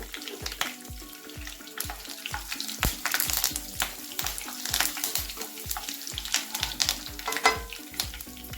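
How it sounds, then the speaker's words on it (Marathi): Two cut red chillies sautéing in hot oil with curry leaves, a soft continuous sizzle broken by regular scraping strokes of a spatula against the pan, close and unhurried with no talk. "त्या आपण कट करून यात टाकून घेणार आहे आणि छानपैकी परतून घ्यायच्या"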